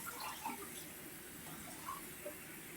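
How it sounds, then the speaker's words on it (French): Faint running tap water as rice is rinsed under the faucet, a soft continuous splash with a few small gurgles and drips, quiet and close. "je les passe sous l'eau, le robinet"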